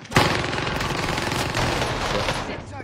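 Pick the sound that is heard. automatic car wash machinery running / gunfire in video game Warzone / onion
gunfire in video game Warzone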